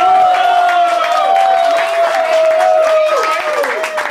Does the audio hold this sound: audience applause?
yes